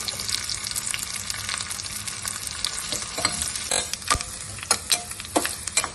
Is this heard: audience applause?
no